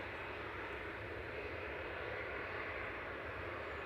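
A British Airways shuttle, an Airbus A319 from London Heathrow, rolls along the taxiway at Manchester Airport, its engines a steady, distant broadband roar that stays even and faint throughout.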